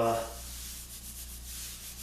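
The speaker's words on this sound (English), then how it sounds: "I'll put the final sanding on it, get rid of these rub marks" Brief, steady sanding on a wooden kitchen table, a soft, even scratchy rasp heard up close and alone, holding at a constant level.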